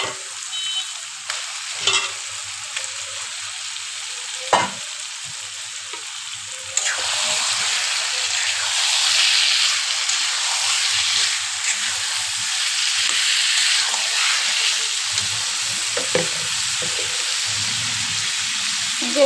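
Marinated chicken hits a hot pan of spice masala for a desi-style chicken gravy, starting with scattered clatter and stirring, then breaking into a loud, steady frying sizzle that continues with occasional scraping and stirring.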